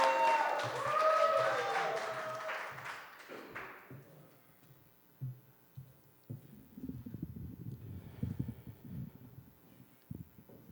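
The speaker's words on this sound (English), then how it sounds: "Put your hands together for Keto." Audience at a poetry slam in Gainesville, Florida, claps and cheers loudly for a poet, then the applause fades and a voice begins speaking over low background sounds.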